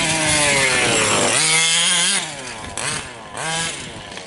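Loud, raspy buzz of a Losi Five B RC car's OBR 32cc reed-case gas engine during break-in, revving up and dropping back with rising and falling pitch, close and continuous, with no talking.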